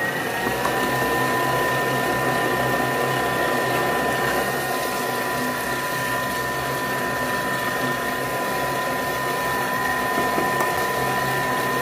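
A food processor whirs steadily at speed 5 while beating choux pastry dough for cheese gougères, a continuous motor drone with a faint tonal hum, loud and uninterrupted throughout.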